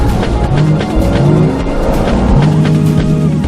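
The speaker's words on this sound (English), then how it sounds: "Nyesom Vehicles has embarked on manufacturing environmental-friendly gas-powered cars" Car with squealing tires in an advertisement for gas-powered passenger cars, a steady engine drone throughout with several drawn-out tire squeals rising over it, loud and close.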